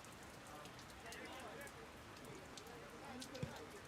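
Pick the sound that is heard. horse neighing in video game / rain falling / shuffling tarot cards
rain falling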